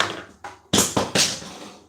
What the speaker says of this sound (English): Throwing scissors on the floor.